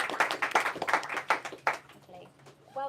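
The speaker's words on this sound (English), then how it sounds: "I'll do a clap for Polly." Brief burst of audience applause at a policy event on votes at 16 and disinformation, a few seconds of dense clapping that quickly thins out and fades to quiet room sound.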